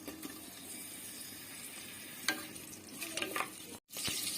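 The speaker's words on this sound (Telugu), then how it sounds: "పచ్చిమిర్చి ఉల్లిపాయ కూడా వేసుకుని ఫ్రై చేసుకోవాలి" Pulao spices, green chillies and onion fry in ghee, a soft sizzle with a few sharper stirring scrapes and clinks, briefly cutting out near the end.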